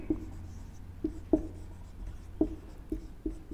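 Numbers are written during a third-grade maths lesson on large numbers, a series of faint, close taps and short scratches at an uneven rhythm.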